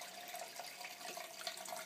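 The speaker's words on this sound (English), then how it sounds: "to just run cold water into the dye until it runs clear" Cold tap water pours steadily from a sink faucet into a pan of dye, a close, continuous rushing splash with small bubbling flickers and no voices.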